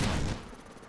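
Gunfire in Medal of Honor: Warfighter multiplayer, a quick, fairly faint burst of shots at the start that fades into quieter background noise.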